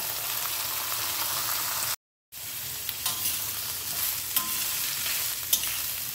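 Boiled potato, cauliflower and peas stir-fried for a phulkopir singara filling give a loud, steady sizzle with scattered spatula scrapes, broken by one brief silent gap.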